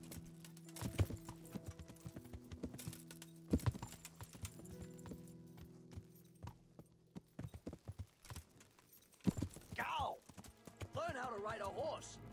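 Horse hooves clip-clop in Kingdom Come Deliverance, irregular and close, with heavy thuds at a jump, and a voice talks over the steps, followed by a louder stretch toward the end.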